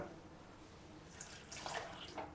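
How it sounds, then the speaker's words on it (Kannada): Water pours into a pan for making wheat flour halwa, a faint splashing trickle that begins partway through and continues quietly, with no talking. "ಇದಕ್ಕೆ ಇದೇ ಬಟ್ಲಾಗೆ ಎರಡು ಬಟ್ಲು ನೀರನ್ನು ಹಾಕಬೇಕು"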